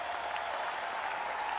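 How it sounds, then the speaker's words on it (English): A baseball stadium crowd at a Triple-A All-Star Game rises and applauds, a dense, steady wash of clapping and cheering heard from a distance. "The crowd rises to its feet"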